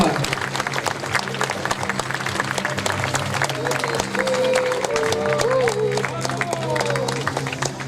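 Audience applause for a contestant at a costume parade contest on a podium in Chanaz, a steady, fairly loud wash of clapping with crowd murmur and voices talking over it throughout.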